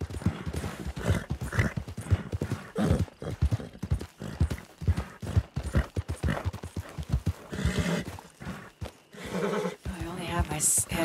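Horses in the video game RedM clip-clop with quick, rhythmic hoofbeats and neigh now and then, loud and close, while a person talks over the game sounds.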